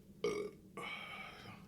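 A man burps twice, close and fairly loud: a short croak, then a longer drawn-out belch after a brief pause. There is no talk.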